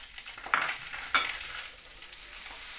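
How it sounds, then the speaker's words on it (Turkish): Steady, close sizzling of 400 grams of ground meat browning in oil in a floured pot, with a couple of sharp scraping stirs near the start. "Kıyma önce biraz kavrulsun"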